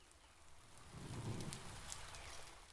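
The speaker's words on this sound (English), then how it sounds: "Under the porch roof, the rain sounds closer, more textured" Steady rain patters on a porch roof nearby, soft and even, with a few brighter drops standing out.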